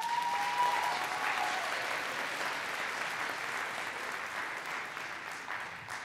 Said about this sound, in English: Go ahead, give him an applause.